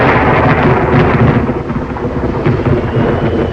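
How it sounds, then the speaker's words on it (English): A heavy thunderstorm roars without a break, with loud rolling thunder over steady, dense rain and no voices. "Away from the thunder."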